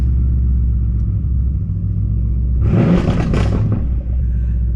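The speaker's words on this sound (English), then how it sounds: "Let me hear rap, let me hear. Oh, literally hear a rev." Deep steady engine rumble of a Mercedes-AMG C63 S with a muffler delete, then a brief loud rev with a raspy, throaty edge that drops back to idle.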